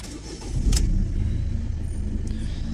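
A 1.6 HDi diesel car engine with a fuel pressure regulator fault cranks briefly and catches, settling into a steady low idle rumble nearby.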